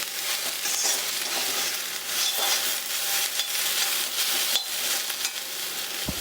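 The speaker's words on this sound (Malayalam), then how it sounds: "ഇടയ്ക്കൊന്ന് ഇളക്കി കൊടുക്കണം." Snake gourd thoran being stirred in a frying pan gives a steady soft sizzle with scraping strokes of a spoon, close and continuous, with no talking.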